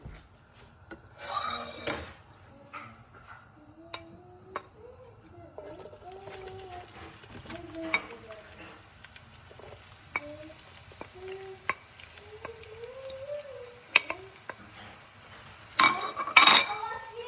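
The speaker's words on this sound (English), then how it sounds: "We just get it all around to make the onions go dip inside the red oil." Onions are stirred in hot red palm oil in a pot for okra soup, a soft sizzle under scattered scrapes and taps of a spoon, with birds chirping in the background and a sharp clatter near the end.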